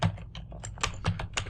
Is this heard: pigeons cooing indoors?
no